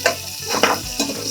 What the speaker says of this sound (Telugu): ఈ ఆనియన్స్ ఇది ఫ్రై కొద్ది ఒక 1 minute ఫ్రై చేసి గోల్డెన్ కలర్లో వచ్చాక